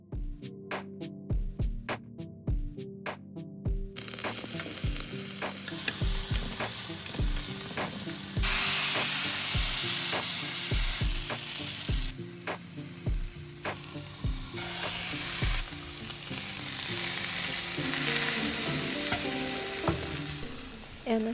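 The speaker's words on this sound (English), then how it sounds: "Cook for a couple more minutes or until the edges have browned and pulled away from the pan." A banh xeo crepe frying in oil in a pan, a steady loud sizzle that builds and stays up, with repeated sharp taps and scrapes of a spatula against the pan throughout.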